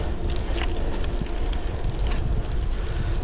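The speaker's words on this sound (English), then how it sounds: "right now it's really windy and you wouldn't be able to hear me" Strong wind blasts into the microphone during a folding-bike ride through suburban Waipahu, Oahu, making a loud, constant low roar with gusty flutters and no voices.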